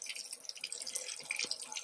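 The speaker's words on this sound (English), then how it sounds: "Show me how you wash your hands during COVID-19." Hands are washed under a running tap during COVID-19, with water splashing and dripping close by in a brief, continuous wet patter.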